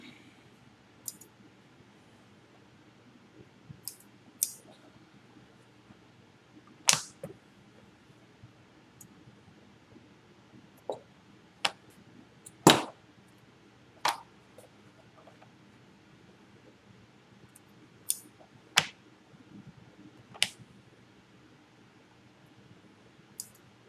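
Scissors snip apart daisy-chained fabric pieces and trim loose threads: sparse, sharp clicking cuts scattered across a quiet background, some louder and closer than others, with no talking.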